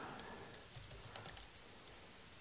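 Keys clacking on a wired Apple USB keyboard hooked up to an iPad, a short run of light, irregular taps, fairly close, with no talking.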